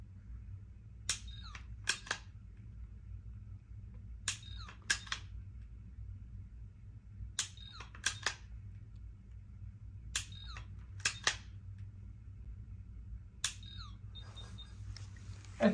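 A Kiwi laser training weapon fires a series of shots, each a sharp electronic click-bang, mostly in quick pairs spread at intervals, over a steady low hum in a quiet room.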